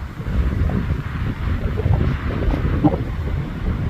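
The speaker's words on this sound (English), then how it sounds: "stupid wind" Wind buffets the microphone at an abandoned mine site, a steady, close, rumbling gust that rises and falls for the whole stretch with no one talking.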